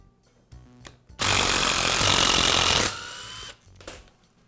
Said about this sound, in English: Now I'll remove the screws that secure the gear case to the motor housing.